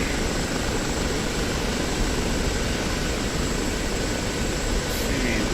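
An OH-58D Kiowa helicopter in the DCS World video game gives a steady, loud, unbroken rotor and engine drone with no pauses and no talking.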